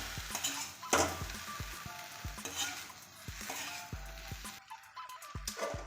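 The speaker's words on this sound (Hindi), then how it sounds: "अब इन सभी इंग्रेडिएंट को हम अच्छे से मिक्स कर लेते हैं।" Veg soya chunk noodles with a little ketchup being stirred and tossed in a hot pan, a close, steady sizzle under repeated scraping and clinks of a utensil against the metal, with no talking.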